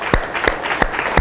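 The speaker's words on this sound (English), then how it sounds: "Let's give them a little round of applause." Audience at a ReactNYC tech meetup applauding, close and steady, with sharp individual claps standing out over the crowd's continuous clapping.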